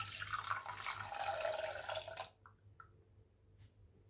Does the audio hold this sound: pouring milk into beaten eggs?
yes